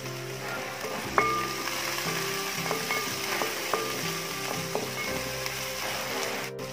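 Small onions and curry leaves sizzle steadily in a hot pan during sautéing for beef chukka, with a few sharp metallic stirring clinks over the continuous frying hiss and no speech.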